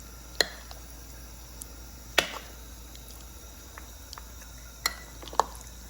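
A spoon clinks against a bowl while thick yogurt raita is stirred to go with chicken biryani: a few sparse, sharp little taps spread far apart over quiet room hiss.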